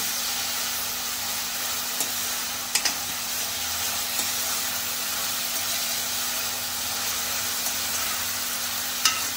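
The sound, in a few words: onion frying in a pan for squid masala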